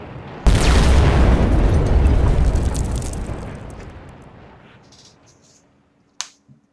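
A hand grenade explodes in the video game Wolfenstein: The New Order, a sudden loud blast followed by a long rumbling decay over several seconds, then a brief sharp click.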